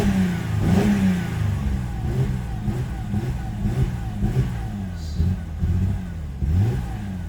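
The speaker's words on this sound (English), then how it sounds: "it sounds like an old small block with a cam, but it doesn't break up at high revs." A Mercedes C350 engine under repair revs up and down loudly close by, several rising and falling throttle blips with a lumpy, cammed character over an uneven idle.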